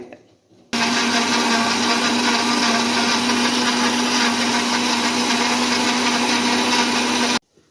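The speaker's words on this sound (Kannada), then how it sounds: "ಎರಡು ಬಾಕ್ಸದು ಮಿಕ್ಸಿ ಜಾಡಿಗೆ ಹಾಕ್ಕೊಂಡಿದ್ದೀನಿ ನೀರೆಲ್ಲ ಏನೂ ಹಾಕೋದು ಬೇಡ ಫಸ್ಟು ರುಬ್ಕೊಳ್ಳೋಣ" A mixer-grinder whirs loudly as chilled homemade butter is ground in the jar without water, a steady, even motor roar running for about seven seconds between brief pauses.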